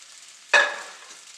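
Squirrel carbonara with bacon and bucatini going into a pan over low heat: a single sudden sizzle burst that quickly fades to a soft, steady crackle.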